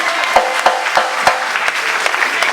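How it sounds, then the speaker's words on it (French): A church congregation claps in a rhythmic burst, sharp hand claps landing at a steady, lively pace over a busy, reverberant room of acclaim. "Acclamez le Seigneur, ça va arriver."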